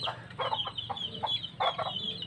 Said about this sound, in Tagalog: Ayun yung mga alaga kong mga manok.